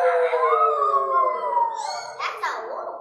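Voices imitate a coyote howl during a church Christmas service: a long, rising and falling wail held for a couple of seconds, then a few shorter yips, fairly loud and close.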